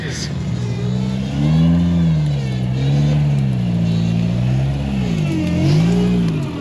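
A loud LS V8 engine revs up and down in rising and falling waves, close and steady, with people talking over it; a 4-wheel-steering off-road buggy at Frogstompers OHV park.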